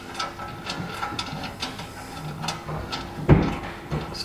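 Bolts being screwed into the fittings of a rear ladder on a VW T5/T6 campervan, heard as a close series of small ratcheting and mechanical clicks with one sharper knock near the end.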